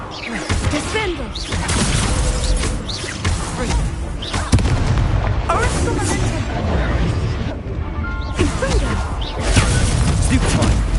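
Spell impact from Descendo in Hogwarts Legacy, a loud booming slam amid continuous dense game combat noise with whooshes and crashes, under voiced spell shouts.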